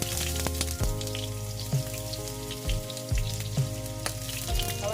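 Onion sautés in a pan for a Filipino fish adobo, a steady hiss and crackle of frying oil with a few scraping stirs and clinks, close and even throughout, with no one talking.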